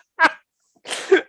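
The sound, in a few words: sneeze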